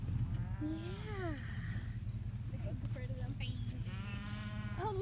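Sheep bleat several times nearby in wavering, drawn-out calls, one after another over a steady low background hum, with no talk.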